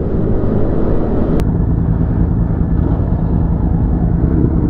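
A Honda motorcycle passes on a coastal ridge road, its engine a steady, loud rumble throughout with a brief sharp tick partway through, no voices.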